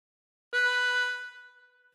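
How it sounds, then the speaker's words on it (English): A single harmonica draw note on hole 3, played as part of the Star Spangled Banner, sounds once with a bright reedy onset, holds steady and then fades out alone. "Breathe in through 3 again"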